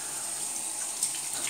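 A bathroom tap runs steadily during a wet shave, a continuous broadband hiss of flowing water close by, with no talking.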